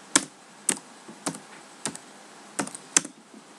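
Six or so separate key clicks on a computer keyboard, spaced irregularly about half a second apart, close and crisp over a quiet background with no talking.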